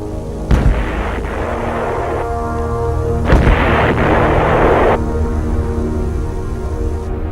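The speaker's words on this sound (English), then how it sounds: "call in supporting fire from the Army's huge 175mm self-propelled guns" Huge 175mm self-propelled artillery guns fire in the Vietnam War along the DMZ. Two loud booming blasts come a few seconds apart, and each rumbles and decays over a steady low background drone.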